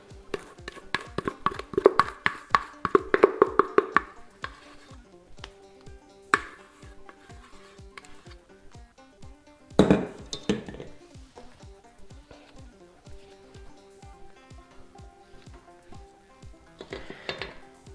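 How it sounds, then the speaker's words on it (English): Cream cheese mixture is spread over a dessert pizza crust with a utensil, giving soft repeated scraping strokes and occasional light clinks against the pan, close and quiet with a few louder taps scattered through. "I'm just going to spread this all around."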